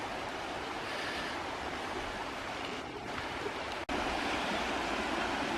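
Creek water pours over a small cascade in Bankhead National Forest, Alabama, a steady broadband rushing roar that stays constant and fairly close throughout, with no talking.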